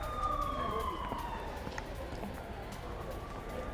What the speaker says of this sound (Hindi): श्रीनगर के कुछ हिस्सों में सायरन जो है वो सुनाए गए हैं